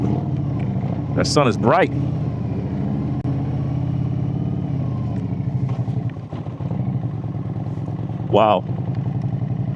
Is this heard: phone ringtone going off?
no